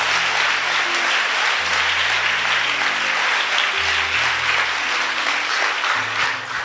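Church congregation applauding the Lord during a sermon, a dense, steady wash of many hands clapping together for several seconds at a constant loud level, with low tones sounding beneath.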